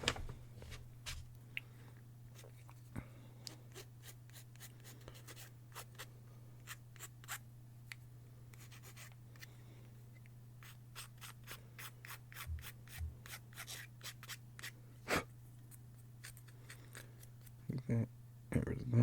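Clippers snipping plastic model kit parts from the sprue, sharp separate clicks scattered over a steady low hum, some in quick runs, close and fairly quiet, with a soft voice talking now and then.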